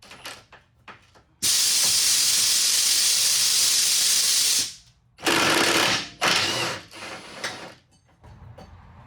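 A ratchet works a 19 mm nut loose on a Hyundai Santa Fe suspension, giving a few light clicks, then a long loud rasping burst, followed by shorter ratcheting runs and scattered clicks, close by with no talk.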